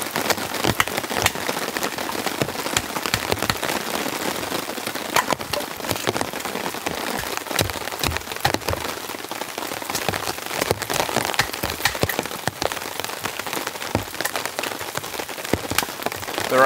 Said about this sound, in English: The rain's coming in real heavy now.